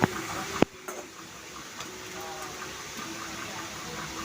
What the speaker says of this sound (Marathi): आता पाणी ओतलं इथं.